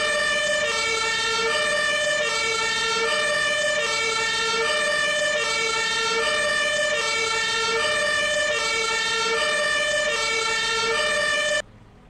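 A fire engine siren blares in Farming Simulator 22 as the truck drives with emergency rights, a loud, steady two-tone wail that repeats evenly for about eleven seconds before cutting off abruptly.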